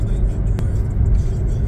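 A car driving along Tropicana Road, heard from inside as a loud, steady low road and engine rumble with one brief sharp tick midway and no speech.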